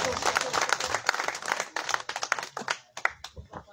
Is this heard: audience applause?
yes